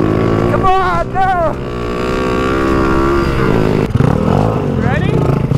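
A 200-horsepower Can-Am off-road vehicle engine revs loud and close, its harmonic drone rising and falling steadily, with excited voices shouting over it near the start and end.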